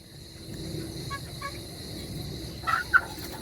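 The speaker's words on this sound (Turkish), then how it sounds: "Bunlardan bir tanesi şu an izlediğiniz gri orman tavuğu." A grey junglefowl gives a couple of short, sharp calls near the end, over a steady backdrop of outdoor ambience and distant insects.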